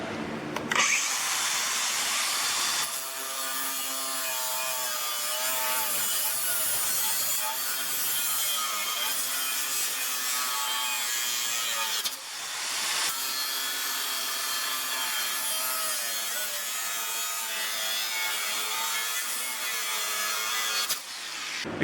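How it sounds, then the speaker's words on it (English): A cordless 6-inch angle grinder with a cutoff wheel grinds through a steel leaf spring in a long, continuous, harsh whine, pausing briefly twice as the cut is reset, with no voices. "It cuts through this leaf spring like butter."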